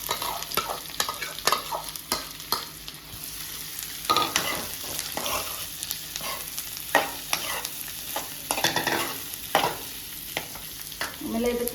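Boiled potatoes tossed with chopped onion in a frying pan, stirred with close, repeated scraping strokes over a steady low sizzle, with no voices.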